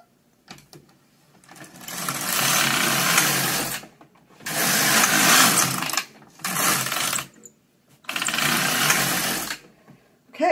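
Knitting machine carriage running rows of waste yarn, sounding as four long, loud mechanical whirring passes separated by short pauses, with no talking.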